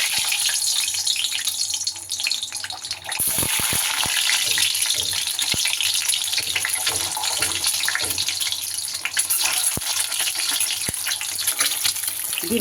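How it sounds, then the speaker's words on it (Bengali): Eggs fry in hot mustard oil, giving a steady bright hiss and sizzle with a few soft pops and clicks. The sound runs continuously at moderate level with a short dip early on and no talking. "তেল গরম হয়ে গেলে এবার আমি ডিমগুলো ভেজে নেব।"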